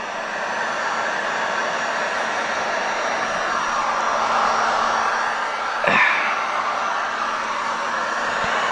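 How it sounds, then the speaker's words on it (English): A heat gun blows a steady, loud rushing whir while shrinking window tint, holding even throughout, with one brief knock or thump near the end and no voices. "This heat gun is supposed to last a lot longer because it's got the cool down mode on it."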